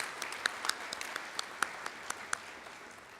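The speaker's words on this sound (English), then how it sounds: "Let's give Todd another round of applause for his time this evening for coming." Scattered, faint applause from a banquet audience at a senior banquet: sparse individual claps ring out in an uneven patter for about three seconds, sounding somewhat distant and thin rather than a full ovation.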